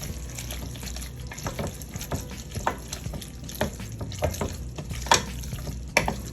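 Thick, creamy macaroni and cheese being stirred and folded with added ingredients, giving close, steady wet squelching and scraping in an irregular rhythm with occasional louder clanks, no voices.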